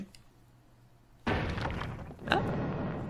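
Secret door opening in the video game Ara Fell, a sudden heavy thunk followed by a grinding rumble and a second scraping thud, fairly loud over a quiet background.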